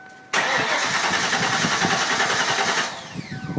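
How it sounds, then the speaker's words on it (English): Ford Mustang SVT Cobra engine cranking and firing after a fuel pump install, catching into a steady loud idle close by, then dropping off near the end. "Start her up after we put the fuel pump in."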